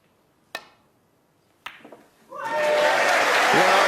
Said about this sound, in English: Tremendous cheer from this packed Crucible crowd